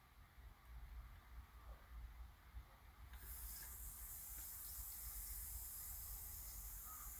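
Steady fizzing hiss of metal telescope parts bubbling in vinegar, close up, growing noticeably louder and brighter partway through and continuing without pause.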